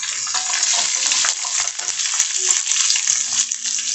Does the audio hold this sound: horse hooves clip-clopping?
no